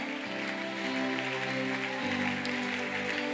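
A church congregation at a worship gathering claps and cheers in a steady, dense roar, with music holding underneath.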